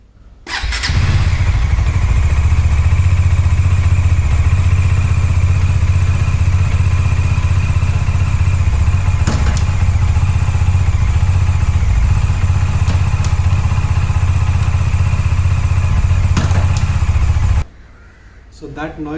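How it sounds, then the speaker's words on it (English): Bajaj Dominar 400 motorcycle running close up with a steady, loud engine drone and occasional sharp clunks from its gearbox, the noise continuous for most of the clip before dropping off near the end. "So that noise is not a sound of a proper gearbox."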